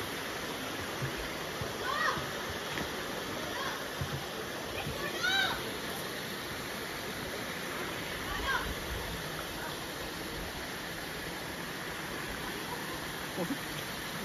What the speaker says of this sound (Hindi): तो गाइस हम पहुंच गए हैं जीबी वाटरफॉल में